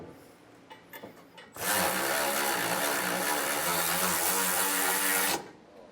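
A power tool, probably an impact driver, runs steadily for about four seconds while tightening bolts on an underbed double-lock gooseneck trailer hitch, loud and close, after a few faint clicks.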